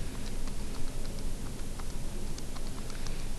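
Fingers tap numbers into a calculator keypad, rapid irregular light clicks close up against a steady hiss of background noise, with no speech.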